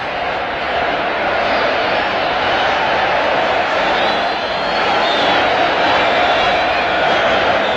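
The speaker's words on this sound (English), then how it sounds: "The crowd is going wild here, and rightly so." A tournament crowd in the Yu Yu Hakusho anime's Dark Tournament keeps up a loud, continuous roar of cheering, dense and steady throughout with no pauses.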